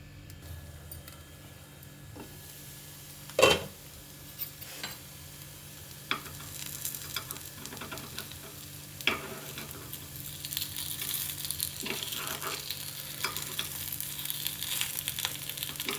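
Oats paniyaram fry in a covered nonstick pan over medium flame, a soft steady sizzle with a few sharp clinks and taps from the lid or a utensil.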